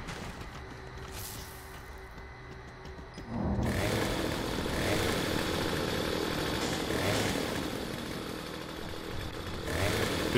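Chainsaw weapon revving in the shooter game Gears of War, a steady loud buzzing motor that kicks in about a third of the way through and keeps roaring with slight surges until the end.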